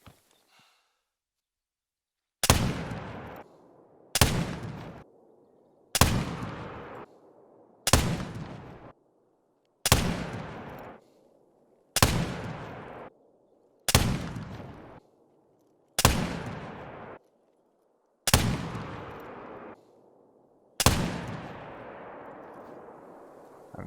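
Ten evenly spaced, loud shots from a Curman .50 inline rifle firing at a 100-meter target at a range in theHunter: Call of the Wild, each sharp crack followed by a short rumbling tail, with a pause of about two seconds between shots.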